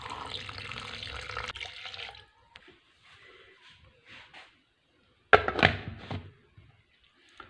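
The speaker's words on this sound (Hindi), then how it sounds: "एक गिलास से थोड़ा सा कम पानी इसमें शामिल कर देंगे।" Water pours steadily into a kiwi juice mixture, a running gush for about two seconds, followed by faint clinks and a louder splashing thunk later.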